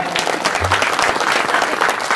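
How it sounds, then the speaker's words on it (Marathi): A crowd at a Marathi kirtan gathering, the men in the audience, claps loudly and steadily throughout, with a dense, continuous wash of applause. "यानंतर सगळे पुरुष टाळ्या वाजवतील महिलांसाठी जोरात"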